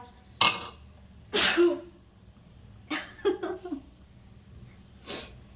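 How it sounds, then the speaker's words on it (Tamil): Sneezing set off by the smell of ground dried red chillies while masala is prepared in a home kitchen: a few sharp, close bursts, one especially loud, separated by quiet breathing and small throat noises, with no talk. "ஸ்மெல்லில் வந்து தும்மல் வருது"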